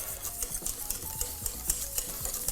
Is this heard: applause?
no